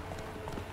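Horse hooves clip-clop in The Witcher 3, a short, steady patter of steps heard under soft in-game ambience with no voices.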